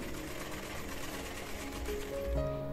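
A sewing machine running cover stitching on blouse fabric, a steady close mechanical whir with a rising tonal hum toward the end, no talking.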